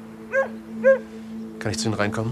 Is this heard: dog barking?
yes